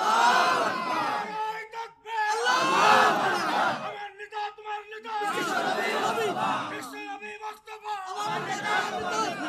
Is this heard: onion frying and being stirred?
no